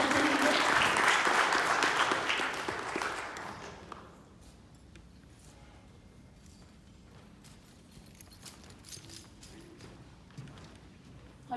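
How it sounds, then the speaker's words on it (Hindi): Church congregation applauding to welcome award recipients at a ceremony: loud dense clapping for about three seconds that fades out. Faint scattered taps and footsteps follow in a quiet room. "सभी तालियों के साथ उनको वेलकम करते हैं।"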